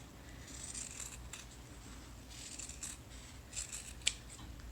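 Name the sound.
scissors cutting fabric bunny ear for quilt block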